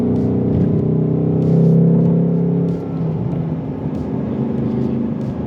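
A 2024 Ford Mustang Dark Horse accelerates hard through the gears, its engine note loud and steady, peaking and dropping around a shift before pulling on again, heard alone.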